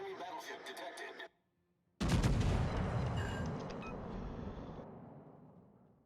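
A naval artillery salvo in the World of Warships video game, with busy game sounds and a voice, then a short silence before a loud, close boom that rumbles and fades over several seconds.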